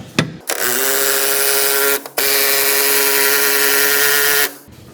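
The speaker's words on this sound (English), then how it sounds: "I'm using power tools." A power tool whines steadily in two long bursts during a car tire change, a brief pause between them, loud and close with a buzzing drill-like tone.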